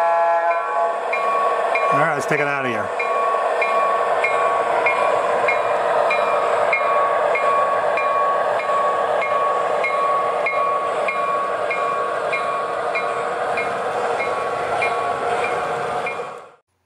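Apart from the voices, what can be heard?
MTH model train locomotive engine sounds controlled via DCS app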